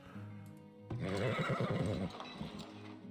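A horse whinnies loudly for about a second over a low background hum, then fades, in the video game Farthest Frontier.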